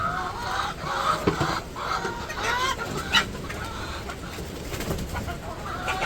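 Hens on a village poultry farm cluck and chatter close by, with overlapping calls and a few sharper squawks over a steady background murmur of the flock.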